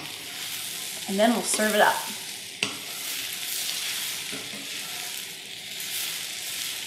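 Sauteed vegetables for sloppy joes sizzle steadily in a hot pan while being stirred, with a brief spoken remark near the start over the constant frying hiss.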